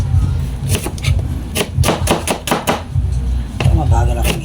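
An onion sliced with a knife on a cutting board for a New Year pork calderita and grilled bangus spread, a loud close series of firm chops falling in uneven clusters, with no talking over them.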